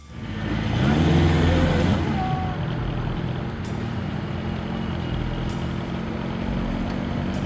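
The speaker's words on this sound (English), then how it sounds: "Delhi's streets transformed into a living museum as vintage cars and classic bikes roared to life" Vintage cars drive past in a heritage rally on Delhi streets, a loud engine rumble that swells in the first two seconds as a vehicle passes close, then settles into steady traffic drone.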